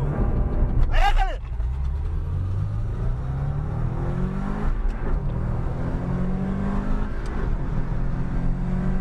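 Drag racing car at a drag-racing cup event in Astana, engine roaring loudly and climbing in pitch as it accelerates away, with a brief high whine early on and people talking over the rumble.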